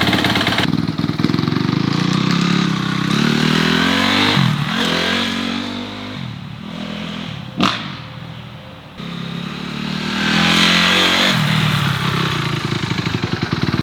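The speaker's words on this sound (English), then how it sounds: "I'm gonna fire the bike up now that the oils are all good, let it run for a second or two" A Honda CRF250R dirt bike engine fires up and runs loud and close, holding a rough idle and blipping the throttle into several revs and a sharp pop midway before settling back to a steady drone.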